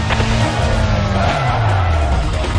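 A car in Need for Speed Most Wanted skids under hard braking, a loud tire screech with a descending engine tone through a police pursuit, dense and close, with no speech.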